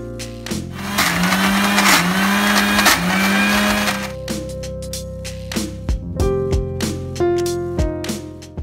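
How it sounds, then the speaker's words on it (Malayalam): A kitchen mixer grinder whirs loudly as it grinds soaked urad dal with ice cubes for about four seconds, then stops. Clinks and knocks follow, then a brief second whir. "കട്ടി ഇടുമ്പോൾ നമുക്ക് നമ്മുടെ മിക്സി അധികം ചൂടാവില്ല, നന്നായിട്ട് നൈസായിട്ട് അരച്ച് കിട്ടും"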